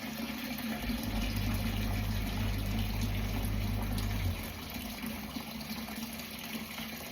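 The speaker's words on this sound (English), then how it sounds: "And then I'm going to fill my kettle up." A kettle is filled with water at a home kitchen tap during morning washing up: a steady rush of running water over a low hum for about four seconds, then it cuts off, leaving quiet room noise with no talking.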